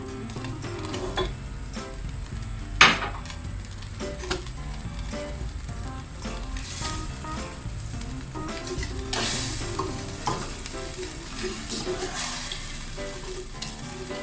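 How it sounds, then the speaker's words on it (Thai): Green curry paste fries in split coconut milk for a Thai green chicken curry, giving a continuous crackling sizzle with occasional clicks and scrapes of stirring, steady and close throughout. "เดี๋ยวเอาพริกแกงลงไปผัดนะคะ"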